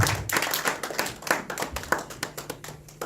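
A church congregation claps together in steady rhythmic applause acclaiming the Lord during a worship service, the sharp hand claps dense and continuous, close and fairly loud with no talk over them.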